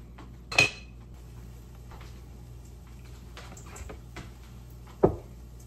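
A metal lid settles onto a pan of Spam frying on the stove, giving one sharp clatter early and a second clink near the end, set against a low kitchen hum.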